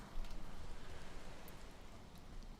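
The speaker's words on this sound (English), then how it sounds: "And it's raining." Steady rain falls in the Valheim game world, a soft, even hiss of drops with faint scattered taps, quiet and continuous with no talking over it.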